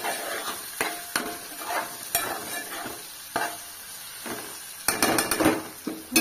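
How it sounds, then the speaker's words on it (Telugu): Ginger-garlic paste frying in a pan for a bitter gourd curry gives a constant sizzle. Sharp spatula scrapes and knocks against the pan recur throughout and grow into a busy flurry of stirring near the end, with no speech. "ఇప్పుడైతే ఇది పచ్చివాసన పోయేంత వరకు మళ్ళా ఫ్రై చేసుకోవాలి"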